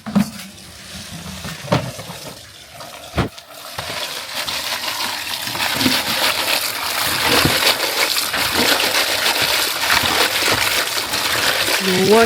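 Mango leaves being washed in water, with a few clinks and splashes early on, followed by a steady, close running-water gush that continues to the end.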